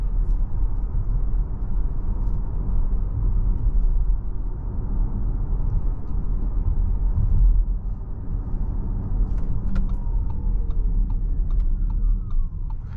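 An electric Audi Q8 e-tron SUV drives steadily, giving a continuous low rumble of motor and road noise inside the cabin that holds even throughout, with faint higher whine and a few ticks near the end.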